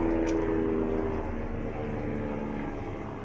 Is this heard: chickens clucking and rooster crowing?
no